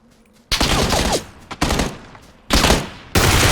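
Groza rifle firing in the video game PUBG, three loud close bursts of rapid automatic fire separated by short pauses.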